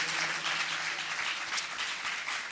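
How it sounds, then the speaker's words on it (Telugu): A church congregation claps loudly in praise during a Sunday service, a steady, dense wash of applause filling the room without a break. "సరి గట్టిగా చప్పట్లు కొట్టి దేవుని స్తోత్రం చెప్పండి."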